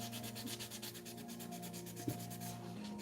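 A fine sanding sponge of roughly 320 to 400 grit is rubbed over a 3D print in quick back-and-forth strokes, a faint, close, rhythmic scratchy hiss with one small knock partway through.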